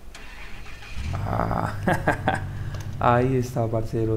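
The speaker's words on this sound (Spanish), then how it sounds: "Vamos a encender nuestro camión, nuestro carro, nuestra Chevrolet." A Chevrolet truck's engine starts up in the video game SnowRunner, a mid-pitched motor catching and settling into a steady run while someone talks over it in Spanish.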